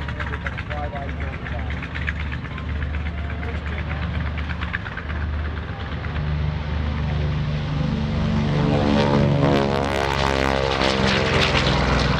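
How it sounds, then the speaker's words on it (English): FM2 Wildcat propeller warplane at a World War II airshow weekend, its piston engine droning steadily and loudly, swelling with a rising, shifting pitch as it passes close, while voices are faintly heard. "the FM2 Wildcat."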